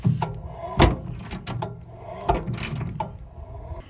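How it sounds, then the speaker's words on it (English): A manual crank override on an electric Lippert RV stabilizer jack is turned by hand outdoors, giving irregular mechanical clicks, clunks and ratcheting knocks at close range. "here is our manual override. Just got to crank it"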